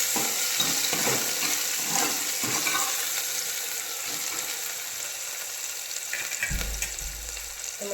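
Chillies and potatoes fry in a pan, a dense, loud sizzle with scraping stir strokes throughout and a low thump near the end, close up with no talking.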